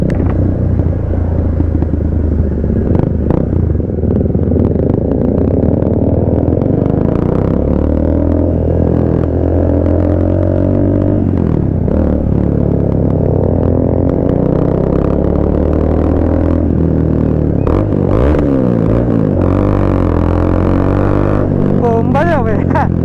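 A Triumph Speed 400 motorcycle engine rumbles and revs with rising and falling pitch, close and loud throughout, with voices and other traffic noise mixed in.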